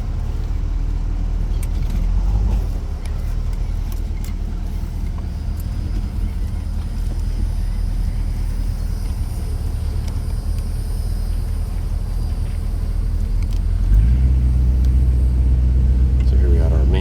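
A 1964 Ford Thunderbird California Speedster convertible reverses with a steady low engine rumble, growing louder and fuller near the end as the revs rise.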